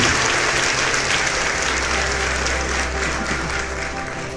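A church congregation applauds in a dense, steady wash of clapping that stays loud and even throughout, with a low hum underneath and no clear speech.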